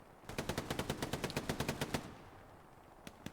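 A machine gun in the World War II shooter game Hell Let Loose fires a rapid, loud burst of about fifteen evenly spaced shots, followed by a lull and two faint, distant single shots.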